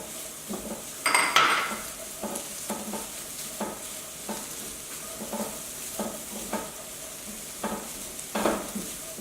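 Cauliflower fried rice with egg, ginger, garlic, carrot and scallions being stir-fried in a pan: a soft sizzle under repeated scraping and clinking strokes of a utensil, with a few louder clatters, close by and without talk.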